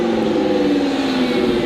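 A straight-piped Lamborghini Gallardo Superleggera engine drones steadily in the distance, a faint continuous revving hum with no voices.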